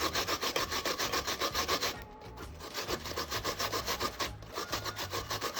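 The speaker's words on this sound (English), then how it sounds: "I'm gonna just do the coconut and the yam, and then finish, grate it" Coconut and yam are scraped over a sharp-toothed grater in quick, even rasping strokes, with a brief pause partway through before the rubbing resumes.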